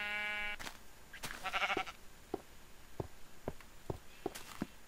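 A sheep in the Minecraft video game gives a single clear bleat up front, followed by a soft burst of noise and a run of evenly spaced, clicky footsteps.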